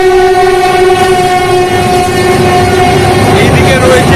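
A train on the railway line near Dakshineswar sounds a loud, continuous horn right through, with its rumbling passage beneath it, close and dominant throughout.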